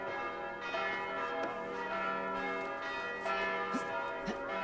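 Church bells ringing in Assassin's Creed Valhalla, a continuous layered peal of sustained metallic tones with overlapping strikes, loud and unbroken throughout.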